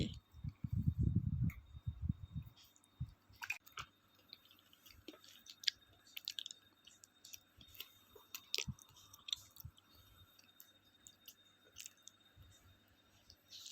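A child eating avocado, soft wet chewing and squishing close to the microphone, quiet and intermittent, with a brief louder burst of voice or handling near the start.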